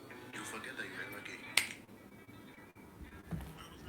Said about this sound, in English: I snap my fingers